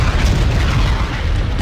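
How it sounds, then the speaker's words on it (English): Fireworks go off in The Godfather 2 video game, a loud dense rumbling boom that fills the whole moment with low, rolling blast energy and no talk. "Let's just wait for the firecrackers. The fireworks, I mean."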